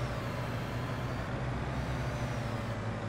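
A dump truck drives along without its engine brake, giving a steady, fairly quiet engine drone and road rumble that holds even throughout.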